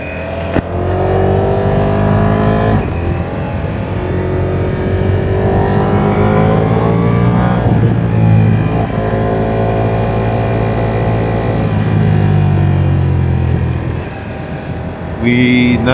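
Ducati Streetfighter V4 motorcycle engine running loud and close throughout, pitch climbing and falling as the rider accelerates on the road, with a brief drop near the end before it surges again.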